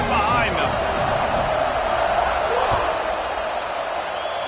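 Big football stadium crowd at an Ohio State vs Oregon college game roaring steadily before the kickoff, a dense, loud wash of cheering and voices that holds without a break.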